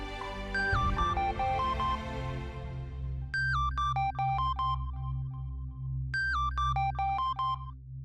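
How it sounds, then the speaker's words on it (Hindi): A mobile phone ringtone plays a repeating electronic melody in two bursts, loud and close, over a steady low hum. "ये तो प्रतिभा का फोन है"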